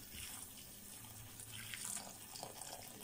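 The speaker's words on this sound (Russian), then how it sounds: "Ну что ж, заливаем мы кипяточком наш чернослив." Boiling water pouring from a kettle over prunes in a bowl, a continuous hissing, splashing stream heard close and fairly quiet throughout.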